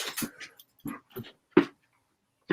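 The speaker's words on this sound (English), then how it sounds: "She's going crazy, scratching at the door." An excited dog whimpers and yips in short, separate bursts with quiet gaps between, close by and alone.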